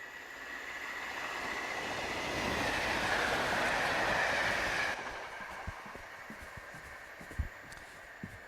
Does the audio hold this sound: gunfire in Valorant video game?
no